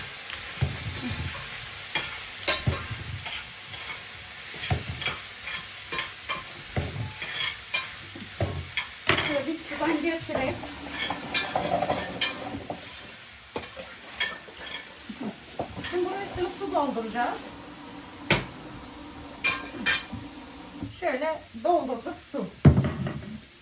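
Food frying in a pan on a stove, a steady sizzle under repeated scraping and clinking of a spoon against the pan, with people talking at times.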